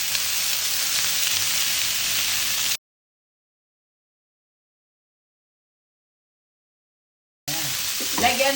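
Milkfish (bangus) liver sizzles in a pan with a steady, close hiss that cuts out to silence partway through, then returns briefly with a voice speaking over it.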